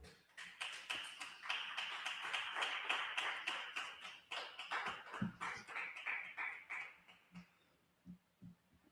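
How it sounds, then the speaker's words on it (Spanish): A church congregation claps in strong, rhythmic unison, sharp beats repeating steadily for several seconds before thinning out into a few scattered claps. "Un aplauso fuerte al Rey"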